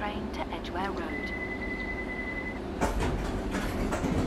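A London Underground Circle Line train in a simulator game hums and rattles at a station, with a chime-like tone, then a louder clunk and rush as it moves off, under a voice speaking.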